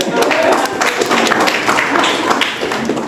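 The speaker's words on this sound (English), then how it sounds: "So let me give a big round of applause." A crowd applauds steadily, dense clapping filling the whole stretch at an even loudness.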